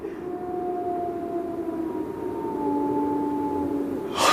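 A long howling cry of a hound rises and holds over a dark moor in a radio drama. It is a drawn-out, wavering tone, fairly distant and against a low background hush.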